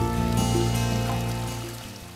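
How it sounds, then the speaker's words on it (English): Water from a pump runs down a pond-free water feature stream, a steady close trickle and pour that fades slightly toward the end. "Your stream will quickly come to life as the pump delivers water to the top of the water feature"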